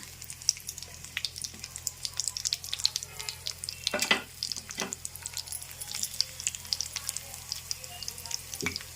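Garlic frying in oil in a pan for vakkaya (karonda) pachadi gives a soft, steady crackle and sizzle, fairly quiet, with a few sharper stirring clatters along the way.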